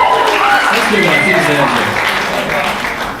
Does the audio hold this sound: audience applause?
yes